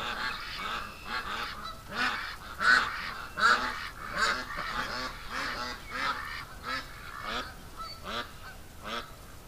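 A flock of Canada geese honking continuously in a rapid, overlapping chorus, moderately distant, with steady outdoor background noise and no speech.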